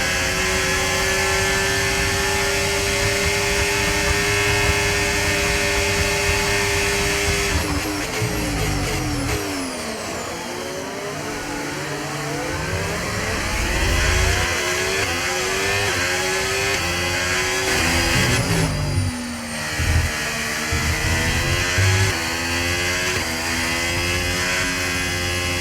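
Racing car engines roar continuously in a motorsport video game race, with dense overlapping revving and shifting pitch sweeps as cars accelerate and pass, loud and sustained throughout with no talking.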